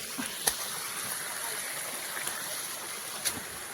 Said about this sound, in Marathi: थोडंसंच पाणी आलं आहे. पाणी खूप येतं या ठिकाणी.